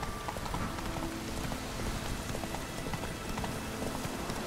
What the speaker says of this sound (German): Bei Sturm. Wie passend. Na, nicht Sturm, Regen.